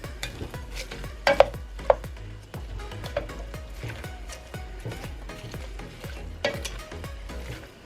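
Cabbage being stirred in a pan for a noodle casserole, steady sizzling frying with repeated scraping strokes of a utensil and a few sharper clinks against the pan, close and moderately loud, no talk.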